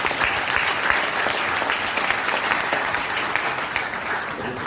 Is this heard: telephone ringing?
no